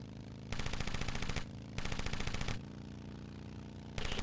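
Automatic gunfire in Road Redemption rattles in three sustained bursts of roughly a second each, separated by short pauses, over a low engine hum.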